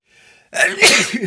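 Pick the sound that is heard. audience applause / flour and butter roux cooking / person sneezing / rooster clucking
person sneezing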